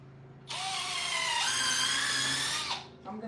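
Power drill pre-drilling into old wood for a table: a close, loud whirring whine that spins up, holds for about two seconds with a pitch rise midway, then winds down.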